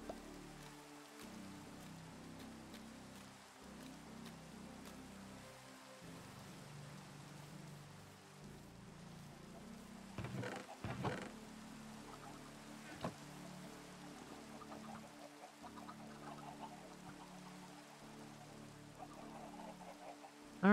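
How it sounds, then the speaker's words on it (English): Rain falling in a video game, a soft continuous patter with low rumbling underneath, faint and steady throughout, with a few brief louder knocks midway and no talk. "Rain."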